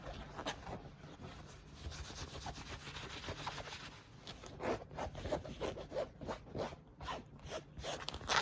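A zipper rasps back and forth on a canvas bag in a run of quick, uneven pulls, close up, with light rubbing of fabric between strokes.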